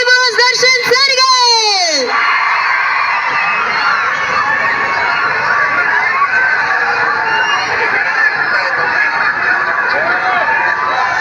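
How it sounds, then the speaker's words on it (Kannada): Crowd at a Kannada film trailer launch cheering actor Darshan, a dense continuous roar of shouts and whistles following a short electronic musical flourish at the start; loud and sustained throughout. "ಬರಲಿ ಶಿಳ್ಳ ಚಪ್ಪಾಳೆ ಡಿ ಬಾಸ್ ದರ್ಶನ್ ಸರ್ಗೆ"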